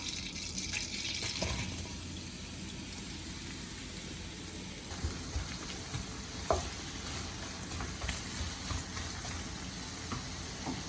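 Chopped onions fry with cloves and cardamom in butter for butter chicken, a steady sizzle under intermittent stirring, with a louder burst of crackling early on and scattered scrapes and taps.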